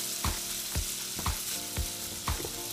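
Pasta carbonara with guanciale stirred in a sizzling pan, a steady fry broken by five regular scrapes and clacks of the spoon about every half second, close and alone.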